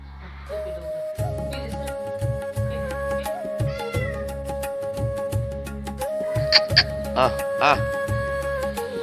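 A cat meows several times in short cries, close by, while people talk and a steady mechanical hum runs throughout.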